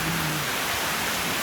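Steady rain hisses in a dense, even wash during a storm, a short unbroken stretch with no voices.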